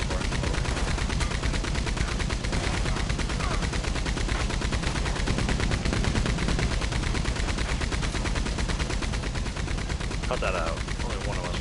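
Heavy, sustained machine-gun style fire from the maximum gun in Red Dead Online, loud and relentless with dense overlapping shots throughout, a voice faintly present beneath the barrage.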